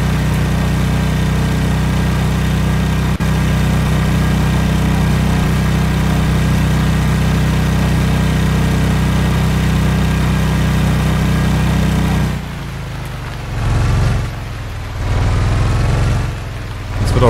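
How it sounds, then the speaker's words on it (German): Motorboat engine droning steadily in the rain in the survival game Stranded Deep, a loud continuous hum that cuts out near the end, leaving a few brief engine surges. "Motorbootgeräusche im Regen."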